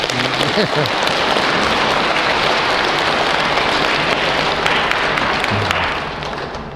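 A lecture audience claps and cheers in a loud, continuous wash of applause that holds steady, then begins to fade near the end.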